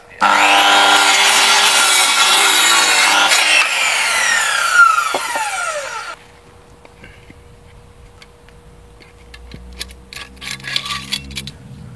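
A power saw cuts through a wooden terrace substructure beam to shorten it, a loud continuous rasping whine for about six seconds that winds down and stops, followed by quieter clicks and handling noises.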